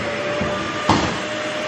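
A DEWALT STEALTHSONIC wet/dry vacuum runs with a steady, fairly quiet whooshing hum and a faint high whine, plus a short thump partway through.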